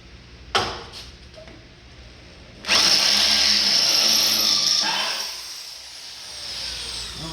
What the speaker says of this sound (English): So I'm going to drill that one out.